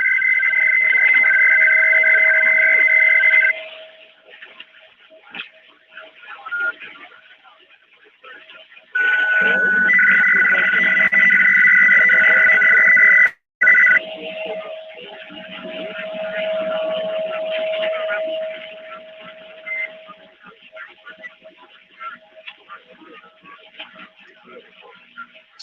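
A strange electronic signal comes over a CB radio, long steady warbling data-like tones in bursts separated by gaps, with static and talk in between.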